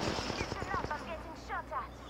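Automatic gunfire in the battle royale game Apex Legends, a rapid run of sharp shots in the opening second with more bursts and electronic game effects following, all loud and close.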